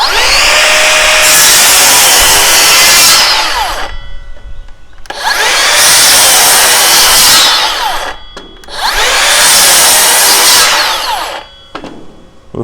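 Makita XGT GSR01Z rear handle saw with electronic brake cutting wood in three loud, sustained close-up cuts, each several seconds long, with short pauses and spin-down between them.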